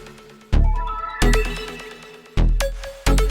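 In the hook of a rage-style beat, a busy synth lead plays over heavy booming bass hits that land every second or so, loud and dense with no voices.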